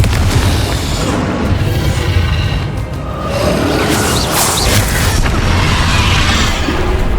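Loud, dense blasts of a Confringo explosion spell in the Hogwarts Legacy video game, booming and crackling continuously with whooshing bursts layered over a heavy rumble throughout.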